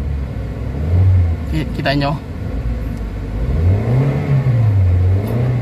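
Up close, a Toyota Avanza suffering low power, delayed throttle and poor climbing pull revs twice, the engine swelling and sinking in strong sweeps as someone speaks over it.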